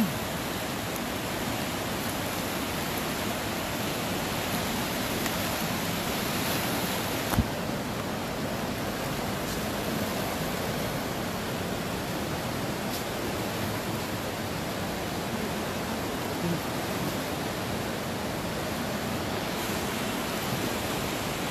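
The Beas river at Mandi rushes along in a constant broadband roar, steady and unbroken across the whole stretch, with no voices.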